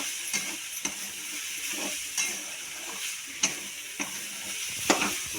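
Onion chutney frying in a pan, a steady sizzle with repeated scraping stirs at irregular intervals, close and moderately loud, no talk.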